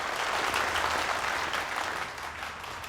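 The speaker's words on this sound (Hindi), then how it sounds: "ऑडियंस इसलिए तालियां बजा रही है" Dense applause from an audience at a magician's stage show, steady and fairly loud for a few seconds before easing slightly toward the end.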